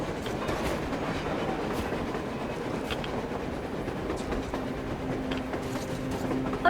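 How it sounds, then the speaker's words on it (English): A train rolling across the surface in the Metro Exodus video game, a steady rumbling clatter of railcars with a faint sustained tone, continuous and fairly loud throughout without speech. "A train! A damn train on the surface!"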